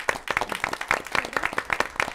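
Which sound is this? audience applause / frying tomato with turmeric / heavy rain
audience applause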